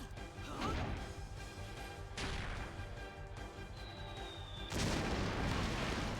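Booming cannon blasts in the action game Hyrule Warriors, from Wind Waker cannons, sounding as three heavy crashes spaced a couple of seconds apart over a steady game background.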